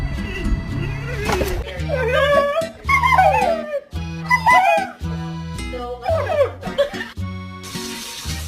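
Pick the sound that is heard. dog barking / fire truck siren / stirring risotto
dog barking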